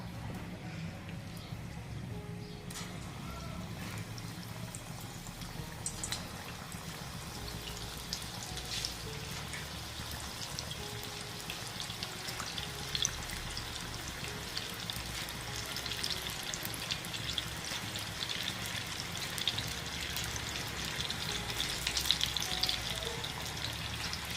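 Spinach (palak) bhaji fritters in chickpea batter fry in hot oil with a quiet, continuous crackling sizzle. Small bubbling pops and faint kitchen clatter sit on top, and the sizzle swells slightly toward the end.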